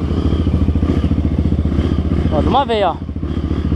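Dirt motorcycle pulling hard on a rough trail, its engine putting out a fast, loud pulsing thrum up close, with brief spoken voices over it near the end.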